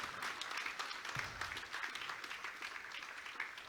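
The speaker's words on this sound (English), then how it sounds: "With a loud round of applause." A crowd applauds steadily throughout, a dense wash of many hands clapping at a distance, fairly faint and without a break.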